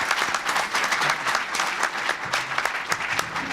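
Audience applause at a welfare reform gathering with President Reagan, dense and close, with many hands clapping steadily for the full stretch.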